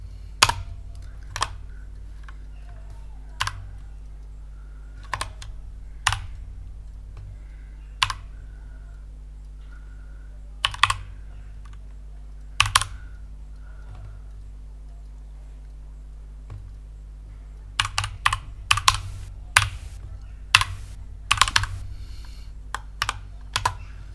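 Typing on a computer keyboard while entering a web address in a browser, with sparse isolated key clicks followed by a quicker cluster of taps near the end, close and clear over a steady low hum.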